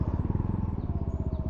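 Aprilia SR GT 400 scooter engine humming steadily while moving at low speed, a close, continuous pulsing drone with no speech.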